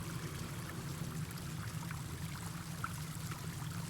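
A restoration faucet in the Baldur's Gate 3 video game runs with a steady, continuous stream of water, an even rushing flow with no breaks and no voices over it.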